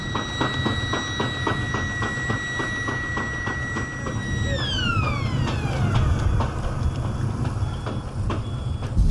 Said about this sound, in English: that siren means this is a very bad place to stand right now.